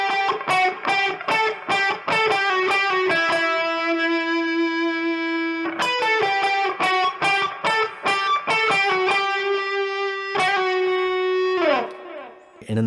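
Electric guitar with distortion and effects plays phrases of a riff: rapid picked note runs broken by sustained ringing notes, loud and close with no talking.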